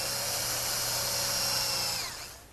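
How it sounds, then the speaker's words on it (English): A power drill bores pilot holes into a wooden drop leaf table to fasten the hinged leaves to the top, a close, steady high-pitched whine holding for about two seconds before winding down. "I'll drill some pilot holes to fasten the leaves to the top"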